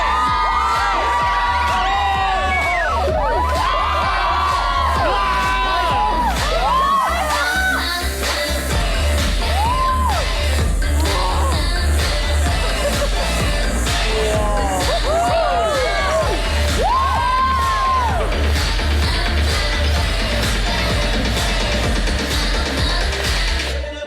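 A studio audience at a televised street-dance show screams, whoops and cheers loudly and continuously over pounding music as a nine-year-old breakdancer performs, with occasional voices in the crowd.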